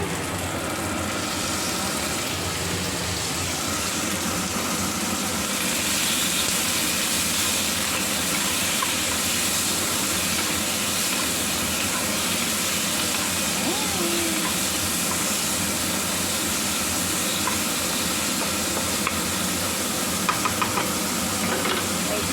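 Beef or pork sizzling and frying with garlic in a hot pan while being stirred, a steady dense crackling hiss that holds loud and even throughout, cooked for a Filipino pancit batil patong.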